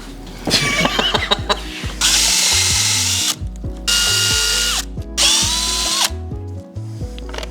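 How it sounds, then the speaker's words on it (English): A power drill bores out rivets on a Raptor 700R intake in repeated loud, close bursts of whirring, each ending with a grinding bite and a short pause in between. "All right, drill the rivets out."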